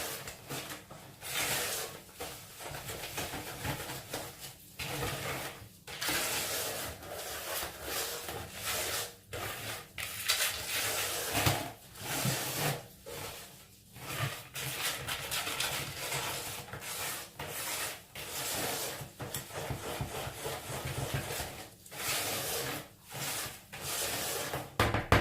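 Emulsified sugar scrub being stirred in a container, a steady gritty scraping and rubbing with rhythmic strokes that continues at close range without talk.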